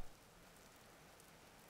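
Steady, soft rain patters without a break in the Vintage Story video game, a faint wash of drops and nothing else.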